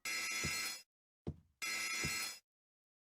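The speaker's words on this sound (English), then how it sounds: "Oh shit, the alarm." An alarm bell rings in the horror game The Lakeview Hotel, two harsh, buzzing bursts just under a second each, separated by a short metallic clunk, fairly quiet with no voices.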